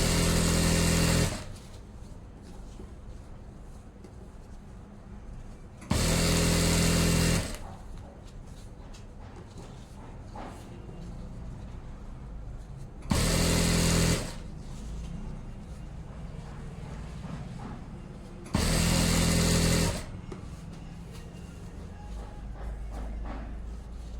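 A sewing machine stitches elastic onto the waistband of a pair of pants, running in four loud bursts of a few seconds each. Quieter gaps fall between the bursts.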